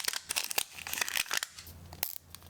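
A Miniverse mini food capsule package from the Make It Mini Cafe series being unwrapped, with close crinkling, tearing and snipping plastic sounds in quick irregular bursts.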